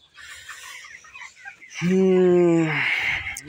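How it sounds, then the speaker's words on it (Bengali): A flock of 22-day-old chickens chatters softly, then one bird gives a single loud, drawn-out call up close before the flock's murmuring resumes. "মুরগিগুলো মোটামুটি সুস্থ আছে"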